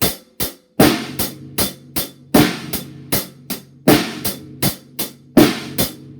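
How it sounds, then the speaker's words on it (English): A drum beat of snare and cymbal hits with no bass drum kicks, played at a moderate tempo, close and clear with no talking. "No notes on the bass drum at all."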